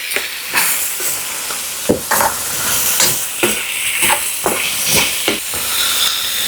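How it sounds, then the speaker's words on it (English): Onion and green peas frying in a pan, with a steady sizzle and hiss broken by repeated scraping stir strokes at close range, no voices. "We'll cook the onion a little first, then we add our green peas."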